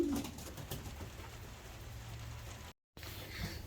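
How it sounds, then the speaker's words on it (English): A pigeon gives a soft, low coo at the start, then quiet outdoor ambience continues with a brief dropout near the end. "she's a beautiful pigeon"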